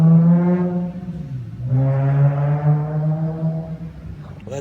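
A Nissan 350Z fitted with new exhaust headers drones with a deep, steady note as it pulls away nearby, the pitch dipping briefly before settling into a loud, sustained hum.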